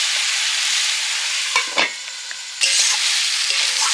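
Vegetables sautéing in a covered pan, a steady hiss of frying with a few scrapes and clinks of a spatula stirring partway through, close and alone with no talk.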